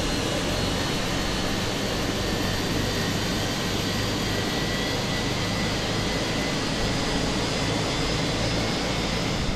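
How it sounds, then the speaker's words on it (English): Jet engine number one spooling up in Microsoft Flight Simulator during a night flight, a steady, loud broadband roar with a low rumble that holds constant throughout, no talking. "we'll start engine number 1"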